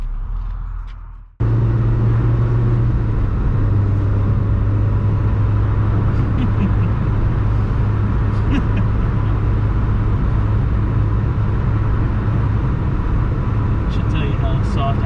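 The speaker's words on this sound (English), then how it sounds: "So we're ready to go for a test drive." A 1990 Fiat Uno Turbo Phase II starts off on a test drive: a brief quiet idle gives way to a steady, loud in-cabin engine drone and road rumble, with small bumps and clicks along the way.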